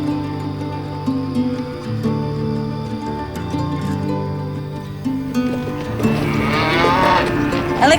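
Cattle on an Australian beef farm moo repeatedly in long, overlapping lowing calls, several animals near and far, with the herd growing louder and busier toward the end.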